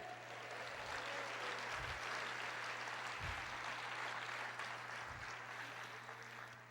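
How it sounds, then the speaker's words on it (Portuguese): A church congregation applauds during a sermon, a steady, dense wash of many hands clapping that holds for several seconds at a fairly low level over a faint steady hum, with a few low thumps underneath. "Aplauda o Senhor"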